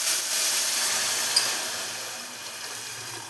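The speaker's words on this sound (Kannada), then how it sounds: "ಗೈಸ್, ಇವಾಗ ನೀರು ಹಾಕೋಣ" Water poured into a hot pan of tempering during home cooking gives a steady, fairly loud steaming hiss that slowly fades, with no talk.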